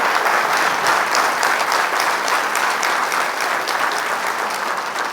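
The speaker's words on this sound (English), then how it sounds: "kindly join me in appreciating the warm round of applause, Justice Manish Pitale and Justice Mr. Nitin" An audience at a legal conference session claps warmly, a dense and sustained round of applause heard at moderate distance that eases slightly toward the end.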